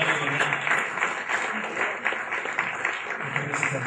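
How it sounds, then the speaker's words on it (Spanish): Audience applause at a Spanish-language gathering, a sustained dense wash of clapping that stays steady and full for the whole stretch, with no voices standing out above it. "Un aplauso para doña Martina y su familia."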